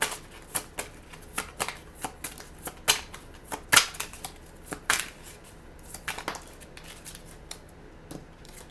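Tarot cards are shuffled by hand, giving quick, crisp riffling snaps and slaps close by in an irregular rhythm, fairly quiet with no voice over them.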